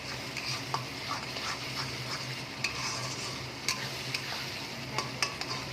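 A spatula stirs masala for a chicken kofta curry in a hot kadai, with a steady oil sizzle broken by sharp metal scrapes and taps against the pan.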